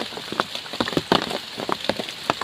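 Rain patters close by on a surface in dense, irregular drops, loud and steady with sharper splashes scattered through, and no voices present.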